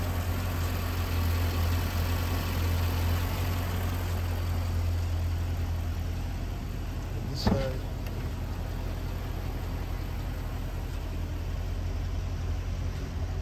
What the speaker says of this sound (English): Engine's pretty quiet.